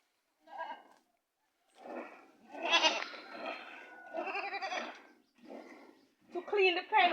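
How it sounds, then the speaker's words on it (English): Nubian mix goats on a Jamaican farm bleat in several wavering calls, close and fairly loud, in bursts with short gaps between them, and a person talks among them. "So this is a Nubian mix. And we have some normal goat"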